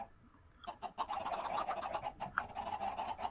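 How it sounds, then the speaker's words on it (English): Chickens in a video game cluck busily and continuously, a dense chatter of short bird calls with no talking. "those chickens are so darn loud"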